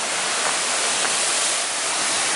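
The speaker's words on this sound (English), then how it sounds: "I've been waiting to come to this waterfall for a long time." Heavy water pours down at Tunnel Falls on Eagle Creek Trail, making a constant, dense roar heard up close without any voices.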